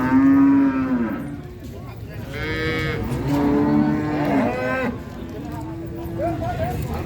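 Large Simmental breeding cows mooing at the Jetis Ponorogo cattle market in East Java, several long, loud, close lowing calls one after another over a murmur of market noise and voices.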